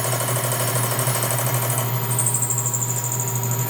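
Lathe making a cutting pass on an aluminum fixture plate: a steady, close machine whine with a low hum and a continuous high tonal squeal, shifting slightly in pitch midway, with no talk.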